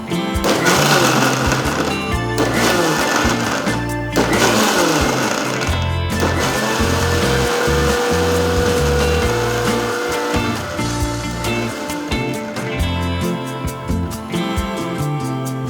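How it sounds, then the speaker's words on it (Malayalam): A blender whirs loudly and steadily while mixing an avocado smoothie with milk, with short stops and restarts early on before settling into a continuous grinding drone, no talking. "ഇങ്ങനെ നമുക്ക് പാൽ ഒഴിച്ച് നന്നായിട്ട് ബ്ലെൻഡ് ചെയ്തെടുക്കാം."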